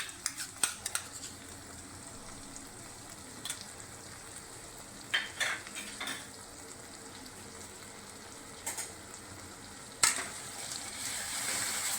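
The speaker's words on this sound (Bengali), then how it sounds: "এখন আমি এর মধ্যে 2 চামচ রসুন বাটা দেব" Garlic paste and tomatoes fry over medium heat in a pan for a Bengali katla fish curry, with a quiet, steady sizzle broken by a few sharp scrapes and clinks from stirring.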